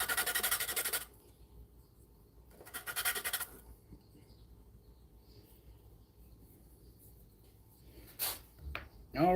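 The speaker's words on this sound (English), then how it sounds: "Now I just need to sand off that nub." Sanding off a small nub on a workpiece by hand: short bursts of close raspy scraping separated by long quiet pauses, ending with a few quicker strokes.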